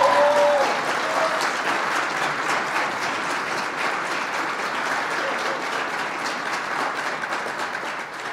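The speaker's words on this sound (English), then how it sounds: "Would you give the Second Lady of the United States another vigorous round of applause?" A reception audience gives the Second Lady of the United States a sustained round of applause, dense steady clapping that fades gradually, with a brief voice over it at the start.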